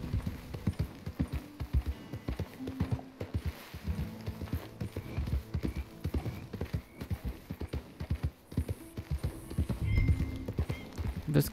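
Rapid hooves of a galloping horse in a video game pound in a steady, close rhythm for several seconds, with occasional faint whinnies and soft game music underneath.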